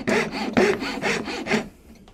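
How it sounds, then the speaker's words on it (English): A coping saw cuts hand-cut dovetails in a wooden board, with about five quick rasping strokes in steady rhythm, close and fairly loud, before the sawing stops. "I like to cut with the face side facing me so I can make sure that my coping saw is not going past my line"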